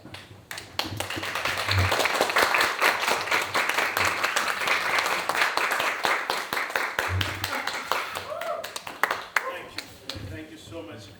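A church congregation standing and applauding as the pastor comes up at a Sunday service, sustained dense clapping with a few sharper individual claps, a voice speaking partway through and music tones near the end.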